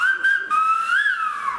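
A sharp finger whistle rings out alone, held steady for over a second with a short break and a slight rising and falling pitch glide near the end, loud and close.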